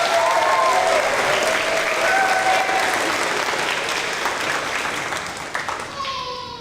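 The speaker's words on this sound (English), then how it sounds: "let's give our parents a round of applause for their help with that" Loud, steady applause from an audience at a 5th grade promotion ceremony fills the room, gradually tapering off near the end.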